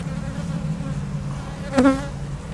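Honeybees buzz steadily around a swarm trap, a close, continuous hum with one louder bee passing right by near the end.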